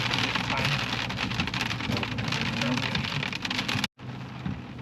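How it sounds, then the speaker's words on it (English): Steady heavy rain with pelting pea-sized hail drumming down nearby on Idaho's Magruder Corridor, a dense continuous patter that cuts off abruptly near the end before resuming. "They're about pea-sized hail that's coming down on us right now."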